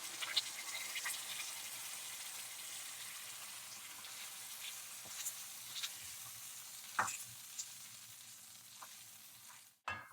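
Ground masala paste frying in a hot pan for soya malai kofta gives a steady close sizzle throughout, with a few sharp clinks of a spoon against the pan near the end and no voices.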